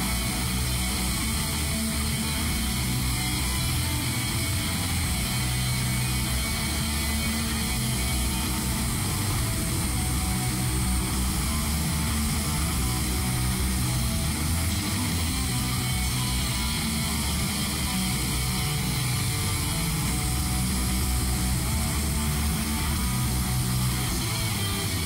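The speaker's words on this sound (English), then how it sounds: "Then I'm gonna do this one on the horizontal grinder" A horizontal belt grinder shapes a knife handle with a loud, steady, unbroken roar that runs the whole time at close range. No voices are heard over it.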